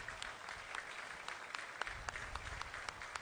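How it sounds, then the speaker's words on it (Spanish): Applause from a crowd at a Mexican baseball game in the Veracruz league, faint and distant, with scattered individual claps standing out over about three seconds. "Fuertes los aplausos, por favor."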